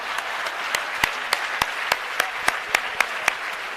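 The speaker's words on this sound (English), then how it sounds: "you'll then give a big round of applause to me as a program director" Audience at a formal launch ceremony applauding, a steady wash of many hands with a few sharper individual claps standing out in a regular beat, moderately distant.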